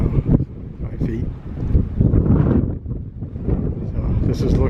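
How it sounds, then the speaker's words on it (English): Strong coastal wind buffets the microphone at the New Bedford hurricane barrier, a loud continuous low roar with gusts surging and easing throughout, while a person talks over it. "You can see it's very windy, so I'm trying to talk loud."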